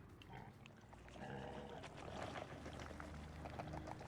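Pigs oinking and grunting on a farm in a video game, several short snorts overlapping at moderate level over a steady low hum and ambient farm noise, no talking.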